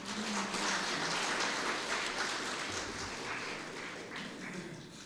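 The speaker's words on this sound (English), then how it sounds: "Give Modi a big round of applause, man." Audience applause at a felicitation ceremony in honour of Dr. Ravindra Nath Maharaj, a steady, fairly faint wash of clapping that holds for the whole stretch and tapers slightly toward the end.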